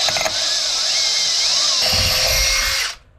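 A power drill bores steadily through material on a wooden liveaboard boat, its high whine holding nearly constant for about three seconds before cutting off abruptly.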